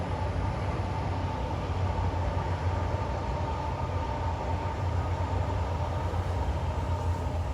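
A train passes near Teignmouth with a steady, loud rolling rumble and a continuous hum of wheels on rails, sustained throughout without voices.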